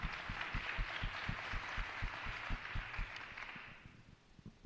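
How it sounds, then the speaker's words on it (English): An audience claps at a Maryland statewide conference on diversion, reentry and justice, a dense broadband patter over a steady thumping music beat that fades toward the end. "Let's clap it up, everyone."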